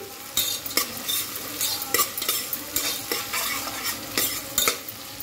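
Onions with a pinch of salt frying for vegetable biryani, sizzling close up while a spoon scrapes and stirs the pan in quick repeated strokes.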